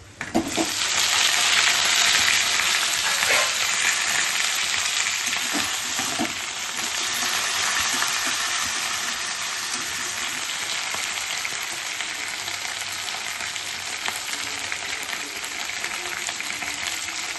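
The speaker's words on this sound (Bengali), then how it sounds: "আলুগুলো ভেজে নিয়েছি" Potatoes fry in hot oil with dried red chilli, five-spice seeds and a little onion, a loud, steady sizzle that holds close throughout with a few faint scrapes of stirring and no talk.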